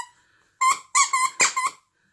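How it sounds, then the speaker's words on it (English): A plush sloth dog toy squeaks five times in quick succession, loud and close, each squeak a bright, tonal, rubbery cry with short gaps between, after a moment of quiet. "I think it squeaks as well."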